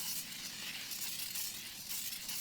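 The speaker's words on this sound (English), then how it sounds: "We have to spray the camp oven first." A steady, hissing spray of oil from an aerosol can into a camp oven, continuous for a couple of seconds at close range with slight pulses in intensity.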